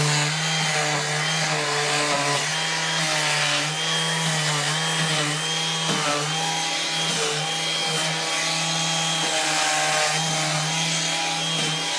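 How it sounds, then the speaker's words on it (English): A Ryobi electric sander with 80-grit paper scours painted laminate furniture to distress it, giving a loud, close, continuous buzzing whine with steady tonal drone and slight changes in pitch as pressure shifts, no voices. "Ryobi sander doesn't have to be cordless."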